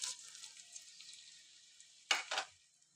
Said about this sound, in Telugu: ఆనియన్స్ మంచిగా మనము ఫ్రై చేసుకోవాలి